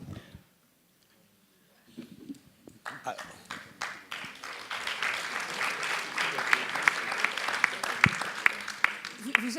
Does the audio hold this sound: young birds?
no